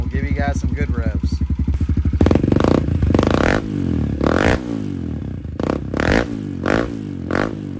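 A Kawasaki KLX140L motorcycle fitted with a 22mm Mikuni carburetor revs up close by. A steady idle pulses first, then the engine climbs in several sharp revs with clattery mechanical noise.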